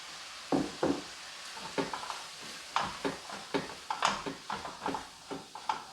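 Baby anchovies with honey and garlic are stir-fried in a pan, a spatula knocking and scraping in quick irregular strokes over a soft sizzle, close and fairly quiet.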